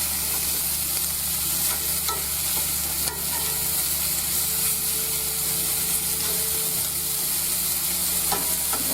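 Meat for red beans and rice sizzles and fries in a pot with a constant loud crackle, scraped and stirred a few times along the way, with no talking.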